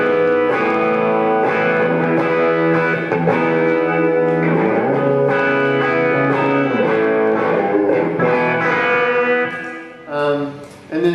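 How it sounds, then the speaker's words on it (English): An electric guitar played through an 808 overdrive, a Love Pedal and a compressor pedal gives a thick, sustained, mildly distorted tone in a continuous run of notes and chords, loud and close, with a brief dip near the end. "So that's the 808 and the compressor. Straight away, you see that's the love pedal and the compressor."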